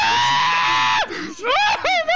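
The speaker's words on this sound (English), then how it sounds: "What was that blood curdling scream?" A loud, blood-curdling human scream from Dead by Daylight rings out, sustained and shrill, then breaks into shorter wavering cries.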